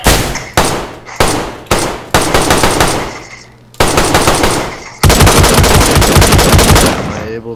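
Video-game machine gun fire aimed at a wall, loud close bursts of rapid shots, several short volleys separated by brief gaps and then a longer sustained stream before it stops.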